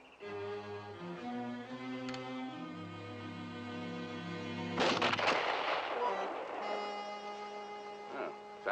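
In a 1958 frontier shooting contest, a single loud gunshot cracks out amid a swelling orchestral score. It is followed by a brief echoing tail before the music carries on.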